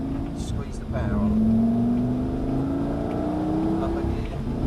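A Lamborghini engine revs up and pulls hard, its pitch climbing steadily after a gear change, loud and close inside the cabin.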